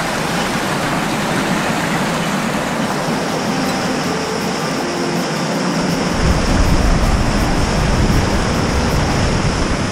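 A fast stream rushes below the waterfall at Janet's Foss in the Yorkshire Dales, a loud, steady roar of churning water that swells slightly partway through.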